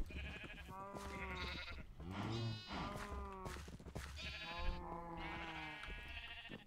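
Sheep in a farming video game bleating repeatedly, several drawn-out, wavering baa calls overlapping one another at close range with brief gaps between them, alone without any talking.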